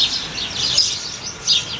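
Several short bird chirps and tweets in quick succession, clear and nearby, with no voices.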